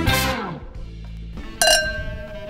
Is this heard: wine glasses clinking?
yes